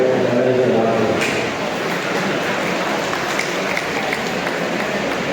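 Audience applause at a cooperative society's 26th annual meeting, a dense steady patter of many hands filling the hall, holding at an even level throughout.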